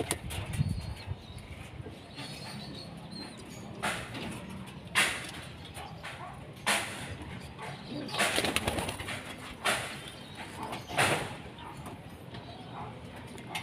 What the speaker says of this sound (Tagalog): sa loop ni Utol, para tignan yung mga ibon na nag-uwian